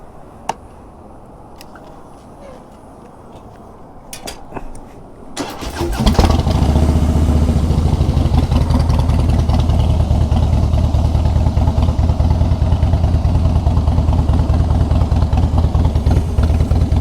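A Harley motorcycle engine is cranked and fires after a few clicks and a short starter whir, then settles into a loud, steady, close lumpy idle, no speech.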